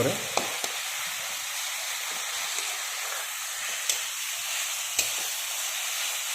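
Ginger garlic paste frying in a pan for a home-style egg curry, giving a steady, close sizzle throughout with a few small pops and crackles and no talk.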